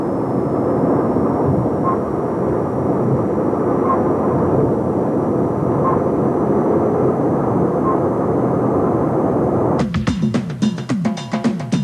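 A police helicopter drones loudly and continuously overhead, its engine and rotor noise filling the scene, before harsher crackling bursts break in near the end.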